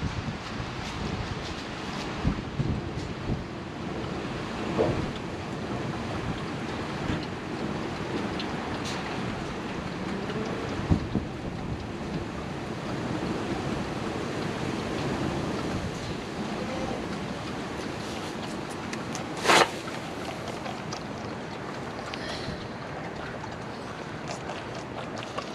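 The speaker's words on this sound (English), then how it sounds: "Some wind." Wind blowing outdoors around a pig pen, a continuous rushing noise buffeting the microphone throughout, fairly faint and steady, with a few brief knocks and clicks over it.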